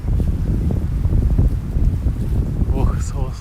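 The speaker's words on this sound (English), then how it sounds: "Oh, so windy." Strong wind gusts buffet a microphone outdoors among plum blossoms in Japan, a loud continuous low rumble throughout, with a brief voice-like sound near the end.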